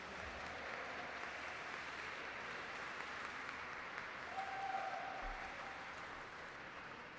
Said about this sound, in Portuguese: Uma salva de palmas a todas as mulheres negras e caribenhas.